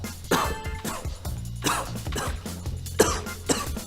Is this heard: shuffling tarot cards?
no